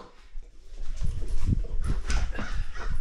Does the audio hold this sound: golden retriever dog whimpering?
yes